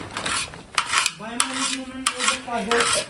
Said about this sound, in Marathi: सुशील भाऊ साळुंके कांदा कापत आहेत